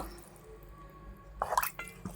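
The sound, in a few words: water poured into pressure cooker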